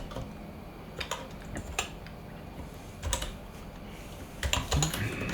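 Typing on a computer keyboard, with quiet irregular clusters of key clicks up close over a soft background hiss.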